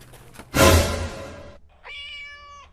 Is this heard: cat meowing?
yes